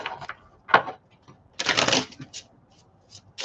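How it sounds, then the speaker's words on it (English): Oracle cards are shuffled close by in a few quick, crisp riffling bursts separated by short pauses, with soft card taps in between. "let me give you a little shuffle."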